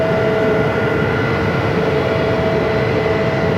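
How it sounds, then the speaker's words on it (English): A DHL Boeing 767 heavy jet on the runway at Phoenix Sky Harbor, its engines a steady, loud, continuous roar that holds evenly throughout, with no talk over it. "There is a heavy, a DHL 767 lined up."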